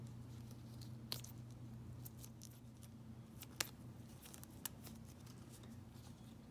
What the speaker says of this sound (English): Take your scissors and cut around the edge of the balloon so that we get 2 equal side